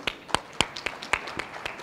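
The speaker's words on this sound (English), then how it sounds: "Ladies and gentlemen, a round of applause for this distinguished panel" Sparse, scattered hand claps from a conference audience applauding a panel at an oil and gas conclave plenary session, about seven sharp claps spread unevenly at moderate distance, thin rather than a full ovation.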